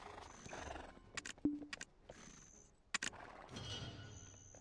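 A horse in the Black Desert Online game whinnies loudly, with hoof clip-clops and other brief game effects around it, close and clear, no talk.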